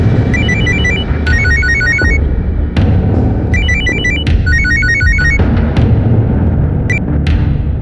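A telephone in a Crime Patrol TV crime drama rings in repeated bursts of trilling electronic tones, separated by short pauses, loud and near over a busy background.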